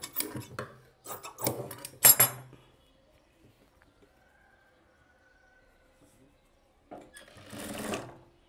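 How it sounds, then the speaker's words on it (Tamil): Up close, a sewing machine stitches a fancy model blouse in short bursts of rapid mechanical whirring, then goes quiet for several seconds before running again. "இப்போ வந்து இதில் நம்ம பட்டி தைச்சிடலாம்"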